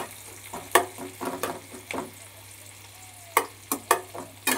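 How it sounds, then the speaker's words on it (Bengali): Onions frying in oil to brown for a soybean dish, a low sizzle broken by sharp, irregular spatula clanks and scrapes close by. "পেঁয়াজগুলো আমি এক সাইড দিয়ে ভেজে নিচ্ছি"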